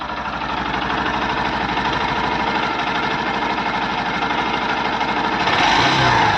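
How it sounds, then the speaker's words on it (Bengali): A Honda Shine 100cc motorcycle engine runs steadily and close by, with a constant mid-pitched putter and faint knocking throughout, rising slightly at the end as the throttle opens. "তো এর সাউন্ডটা আপনারা শুনুন এবং শুনে বলুন যে কতটা মিষ্টি সাউন্ড।"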